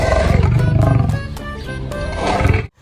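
Loud roaring lion played for a lion toy figure, a rough, sustained growling roar with pulsing grit that swells again before cutting off abruptly, heard alone with no talking.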